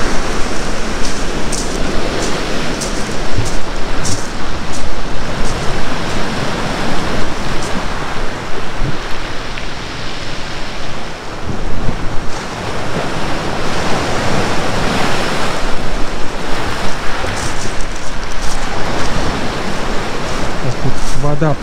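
Loud, continuous roar of stormy Black Sea surf at Foros, Crimea, with waves crashing and churning, mixed with gusty wind buffeting the microphone.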